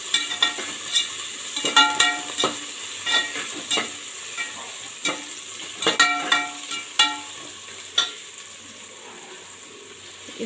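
Ginger garlic paste fries in a pan for mushroom biryani, with a soft continuous sizzle under repeated sharp spatula taps and scrapes against the pan, close by and without talk.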